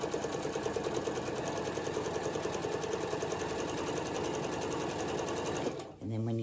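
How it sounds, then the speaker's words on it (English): A sewing machine back-stitches and then sews down a pants seam, a steady rapid needle chatter heard close up before it stops abruptly near the end. "start again, back stitch, sew all the way down"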